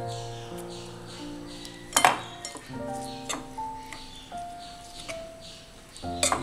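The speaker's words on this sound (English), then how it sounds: "We have to mix it." Banana flower pakoda batter mixed in a bowl, with scraping and clinking of a utensil against the dish, a few sharper knocks, and a faint tonal hum underneath.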